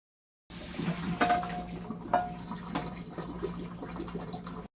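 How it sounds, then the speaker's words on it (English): Boiled spaghetti noodles and hot water are poured out in a kitchen, with a soft splashing rush and a few clanks of the pot, fairly quiet and close, without talk. "Alright everybody, we're gonna pour these noodles right in here."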